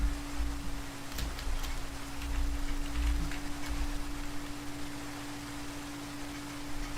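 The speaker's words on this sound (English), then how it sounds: "It's a rainy day." Steady rain falls in Minecraft as a constant, soft hiss of rain on surfaces with a low hum beneath it, and no voices are heard.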